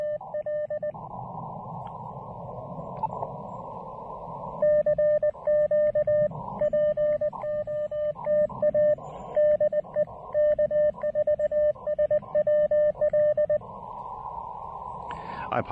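Tuning tones come over a ham radio during a low-power portable operation: repeated bursts of steady beeping tones in a stop-start pattern over faint background hiss, with a long gap early on.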